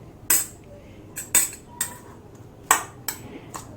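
A spoon mixes a banana stem filling in a bowl, giving about seven sharp metallic clinks and taps spaced irregularly, close and clear over a quiet background.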